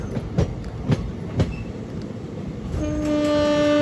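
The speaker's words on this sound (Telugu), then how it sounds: "మళ్ళీ ఆపోజిట్ ట్రాక్లో ఒక ట్రైన్ అయితే వస్తుంది." A train on the opposite track rumbles past close by with rhythmic clacking of wheels over rail joints, then a loud, sustained horn blares; heard from a passenger train between Vijayawada and Guntur, the passing locomotive a WAP-4.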